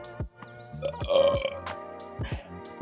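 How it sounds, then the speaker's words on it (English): A single loud, drawn-out burp rises over the steady music and sounds of a Lies of P gameplay session, with no speech. "Hi, it's me, burping"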